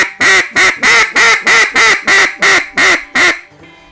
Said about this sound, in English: It's kind of a top to bottom, screaming to whispering duck call, made so you can get a lot of qualities of a single reed call